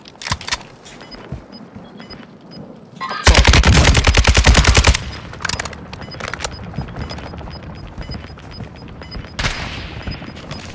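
Rapid automatic gunfire in Call of Duty: Warzone 2: a loud, sustained burst of shots crashes in midway, with scattered shots and game noise before and after.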